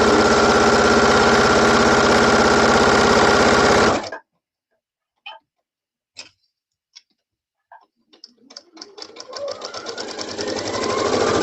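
A home sewing machine stitching a dress pattern runs loud and steady for about four seconds, then stops, leaving a few scattered clicks before a fainter mechanical whir builds again.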